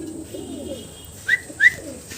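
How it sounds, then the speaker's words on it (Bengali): Two soft, short cooing calls from diamond doves, close by, over a quiet background hum. "ডায়মন্ড ডাব দেখেন চমৎকার আরও এক জোড়া ঘুঘু পাখি একদম ছোট সাইজের"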